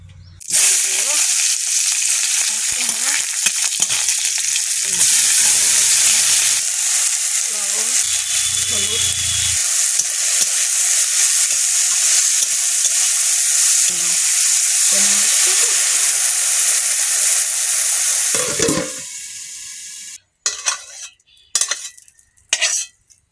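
Frying in a wok makes a loud, continuous, close sizzle for most of the stretch, then it suddenly stops and is followed by a few scattered clinks and knocks of utensils.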